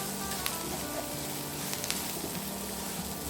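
Onions sautéing with curry leaves, asafoetida and salt in a pan for South Indian onion thuvayal give a steady, soft, continuous sizzle with faint scattered crackles, heard alone at moderate distance.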